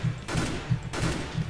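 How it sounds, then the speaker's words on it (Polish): Short bursts of gunfire from a rifle in CS:GO, a few rounds at a time, repeating at steady intervals with brief pauses between bursts, close and loud with no voices. "Pierwsza opcja to burstowanie, czyli po prostu oddawanie króciutkich serii strzałów z odstępem czasowym"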